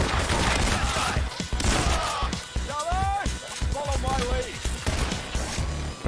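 Sniper rifle gunfire in the video game PAYDAY, loud and dense, with sharp cracks over a busy, continuous battle mix while a voice talks over it.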